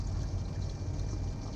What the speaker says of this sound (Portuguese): Devagarzinho assim, ó, colocando a água.